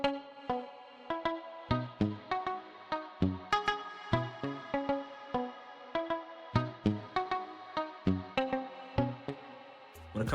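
A muted electric guitar from a Kontakt sample library picks a steady, bouncy melody of short plucked notes in a repeating rhythm, dry and close, with no talk over it.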